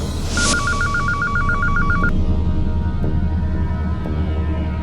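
A phone rings with a warbling electronic trill for about two seconds, then stops, leaving a low steady background hum.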